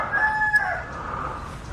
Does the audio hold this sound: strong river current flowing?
no